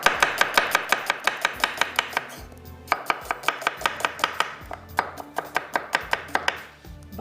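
A knife finely chops onion on a cutting board for a white lobia chicken curry, a fast, even series of sharp close taps with a brief pause partway through, and no talking.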